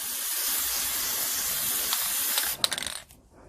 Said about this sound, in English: So I'm just going to give this a quick light spray.